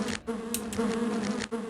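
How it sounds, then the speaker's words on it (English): Hornets or bees buzz in the DOS game Lands of Lore, a steady, close, tonal insect drone with brief clicky interruptions, no voices over it. "hornets or bees"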